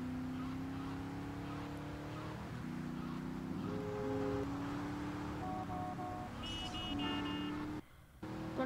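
A Mazda RC car in a modded GTA Vice City video game, its synthetic engine tone rising and stepping through pitch shifts as it drives, with brief higher electronic tones near the end and no speech.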